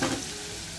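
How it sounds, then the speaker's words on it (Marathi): Garlic sautéing in hot oil in a pan makes a continuous close sizzle and frying hiss, steady and fairly loud with no voices. "छान लसूण बदामी रंगावर परतला गेला।"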